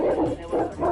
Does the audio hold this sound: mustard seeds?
no